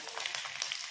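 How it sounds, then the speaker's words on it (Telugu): Chopped onions, dried red chillies, crushed garlic and curry leaves fry in tempering oil with a soft, continuous sizzle and light crackle, brief and close, with no voices. "అన్నీ కూడా మంచిగా వేయించుకోవాలి"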